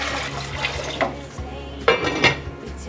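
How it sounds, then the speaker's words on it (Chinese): A metal pot clanks and scrapes on a stove as it is set up to heat water for softening vegetarian soy skin, a few sharp knocks over a steady low hum. "来热一锅水"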